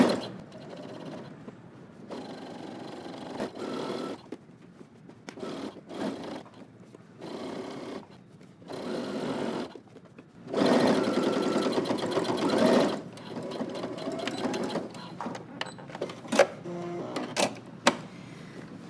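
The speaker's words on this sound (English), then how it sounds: "we're going to stitch in the ditch" A home sewing machine stitches in the ditch along a waistband seam on a pair of slacks, running in short bursts and stops, then a longer steady run, with a few sharp clicks near the end.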